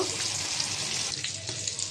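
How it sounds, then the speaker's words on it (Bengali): An egg frying in a pan on the stove sizzles steadily and close up, a dense crackling hiss with small pops and no voices. "ডিমটা একটু ভেজে নেব।"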